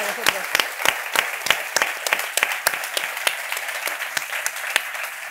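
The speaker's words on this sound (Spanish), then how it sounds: "Os pido un aplauso para ellas 2." Audience applause at a corporate governance centre's anniversary event, a dense crowd clapping steadily with sharp individual claps standing out, fairly close and continuous throughout, with no speech over it.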